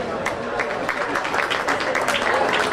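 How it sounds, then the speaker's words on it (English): Crowd applause in a county fair swine show arena, a dense steady round of clapping from many spectators that holds evenly throughout, with a voice faintly mixed in. "Just give them a round of applause"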